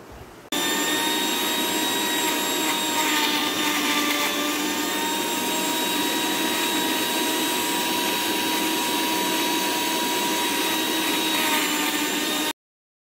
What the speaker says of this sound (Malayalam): ഇതെല്ലാം നന്നായി ബ്ലെൻഡ് ചെയ്തെടുക്കാം.